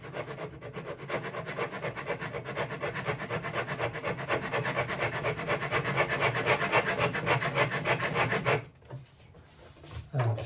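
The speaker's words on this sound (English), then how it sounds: "And scraping." Scraping on the wood of a 1950s Armin Paulus archtop guitar during restoration: rapid, even rasping strokes repeat in a steady rhythm close up for about eight seconds, then stop, leaving a few faint scrapes.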